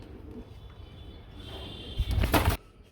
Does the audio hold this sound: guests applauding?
no